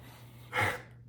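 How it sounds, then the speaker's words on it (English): A single yawn from an adult man, a soft breathy swell lasting about a third of a second, close to the microphone over a steady low hum, with no talking. "I yawn every time I do a video"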